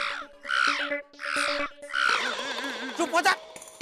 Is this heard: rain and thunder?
no